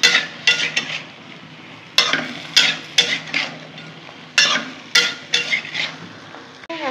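Lentil dumplings (bori) fry in a pan while a spoon stirs them, with an oily sizzle underneath repeated sharp scraping and clinking strokes against the pan at an uneven, steady pace.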